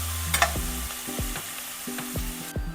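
Onions hit hot oil for a mutton head pepper fry and sizzle steadily up close, with a few sharp knocks and scrapes of stirring over the constant crackle.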